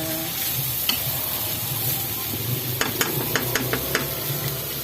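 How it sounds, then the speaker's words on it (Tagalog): Bitter gourd (ampalaya) sautéing in a pan: a steady, close sizzle runs throughout, and a run of sharp scraping and clacking strokes from stirring comes near the end. "Ginisan natin ang ampalaya."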